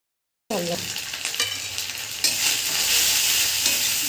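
Spice masala with salt, turmeric and chilli powder frying in a pan starts abruptly after a short silence, a dense hissing sizzle with stirring scrapes that swells louder partway through, no speech.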